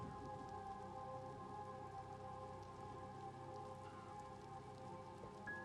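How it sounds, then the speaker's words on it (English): Steady rain pours in a first-person horror-mystery video game set at a manor, a constant, even hiss of drops on surfaces with faint tonal game ambience underneath, no voices. "Nice rain."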